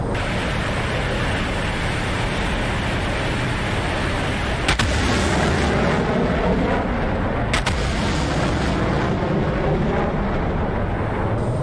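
In a jet combat video game set around 1950s fighters like the F-100 and F-105, heavy engine roar fills the scene, broken by a couple of sharp, brief bursts of aircraft gunfire, loud and close.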